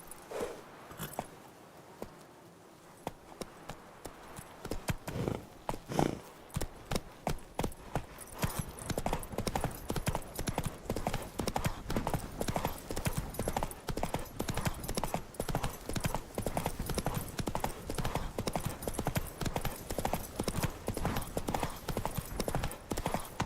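Steady clip-clop of a horse's hooves while riding in The Witcher, a brisk continuous gallop-like rhythm that runs nearly the whole stretch after a brief quieter start, with no talk.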